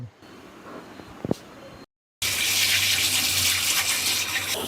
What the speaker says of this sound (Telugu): ఇప్పుడు వీటిని ట్యాప్ దగ్గర తీసుకెళ్ళి ట్యాప్ కింద పెట్టి మనం క్లీన్ చేద్దాం